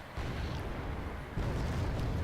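Mortar fire booms in the Wargame: AirLand Battle strategy game as one side counter-fires on enemy mortars, with two long, low, rumbling blasts that roll under a heavy, muffled ambient bed.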